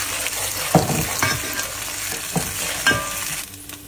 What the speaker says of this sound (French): Je vais donc faire cuire mon ail dans l'huile d'olive.